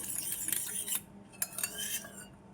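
Spoon clinking and scraping against a bowl while stirring a few drops of food colour into water for homemade alta, light irregular taps close by with no talk.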